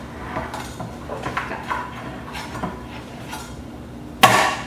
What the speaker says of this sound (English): Give it a good whack, just like that